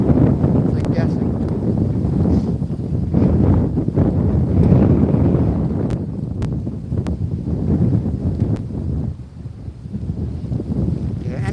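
Strong wind buffets a fishing boat in harsh conditions. A loud, continuous roar of gusts rushes across the microphone, with voices now and then under the noise.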